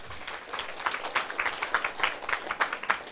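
An audience at a lecture breaks into applause, a dense burst of many hands clapping in uneven pulses throughout, moderately close.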